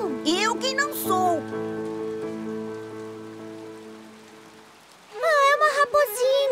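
Cartoon rain patters steadily in the Peixonauta episode about a great rainstorm, mostly covered by music and bursts of bright animated sound at the start and end.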